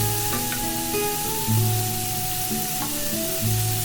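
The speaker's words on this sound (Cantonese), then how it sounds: "跟住都係擺埋落個鑊度一齊煎" Coated chicken breast sizzles steadily as it pan-fries in a wok over medium-high heat, a continuous close crackle with no talk.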